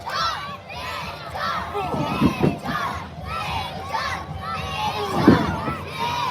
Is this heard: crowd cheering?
yes